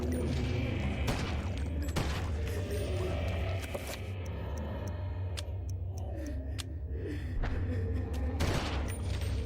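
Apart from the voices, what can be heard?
assault rifle automatic fire in video game Eternal Darkness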